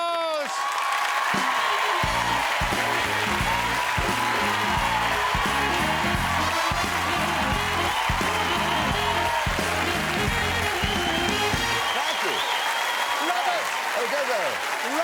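A studio audience greets Bob Monkhouse's entrance on a television talk show with sustained, loud applause, dense clapping that swells and holds for over ten seconds, accompanied by band music.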